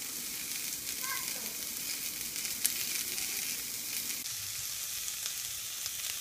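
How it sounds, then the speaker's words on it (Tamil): Onions sautéing in a pan for bottle gourd curd curry, a soft, even sizzle held at a low level, with only a faint tap or two, close and without speech. "வெங்காயம் நல்லா பூ நிறமாக வதங்கிடுச்சுங்க"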